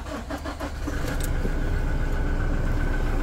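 A 2018 Toyota Hilux Workmate 4x4 engine cranks with a few quick ticking turns, then catches and settles into a steady, fairly quiet idle hum.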